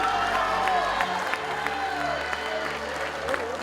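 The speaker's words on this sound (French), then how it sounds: "On applaudit." Audience at an award ceremony applauding, dense steady clapping with crowd noise and occasional cheers, continuous and fairly loud throughout.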